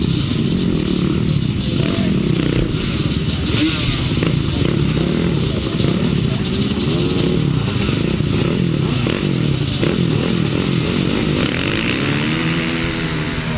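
Quad bikes racing on a grasstrack at a 2007 meeting in Ledbury, with several engines droning and rasping loudly and without a break as the machines circle, the pitch rising and falling as they pass.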